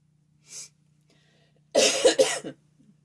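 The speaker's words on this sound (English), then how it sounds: "That cough you hear right there" A short breath, then a single harsh, close cough with two bursts, followed by a faint throat sound; quiet otherwise.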